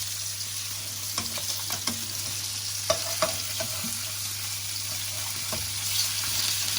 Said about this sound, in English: So that butter's just melting now, and that's going to give that a nice glaze.